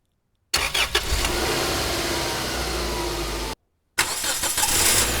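A recorded car engine runs steadily for about three seconds, cuts out briefly, then returns loud and close, with a dense, even rumble that holds throughout and no talk.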